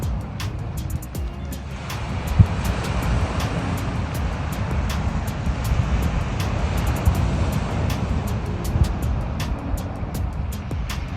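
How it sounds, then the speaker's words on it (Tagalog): Strong ocean waves roll and break in a loud, continuous surf roar mixed with gusting wind noise, with a few sharper splashes standing out above the steady wash. "Malakas na yung alon."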